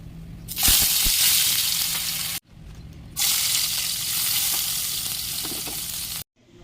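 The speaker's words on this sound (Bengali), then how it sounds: "আমি ভাজবো করলা ভাজা আর আলু ভাজা।" Bitter gourd and potato fry in a pan with a loud, hissing sizzle in two long bursts separated by a brief silent cut, with occasional clicks of stirring.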